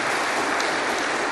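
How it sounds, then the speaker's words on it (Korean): A church congregation claps together for a newly appointed deacon, a dense, even wash of applause that stays loud and steady throughout, with no voices standing out. "인사하실 땐 박수 한번 쳐주세요"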